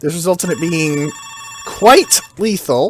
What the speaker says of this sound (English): I apologize for the phone call in the background.